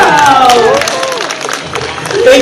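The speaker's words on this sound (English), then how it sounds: "Give them a round of applause." Crowd applause at an indoor home and garden show, scattered claps and cheering under squeaky whistle-like tones and voices throughout.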